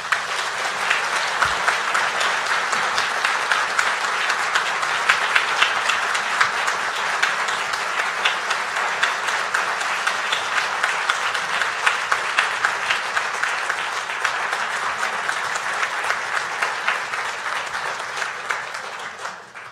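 Sustained audience applause at a Stratford Festival forum on the rule of law, welcoming Dennis Edney to the stage, a dense, even roar of many hands clapping that holds steady for about twenty seconds and fades slightly at the end.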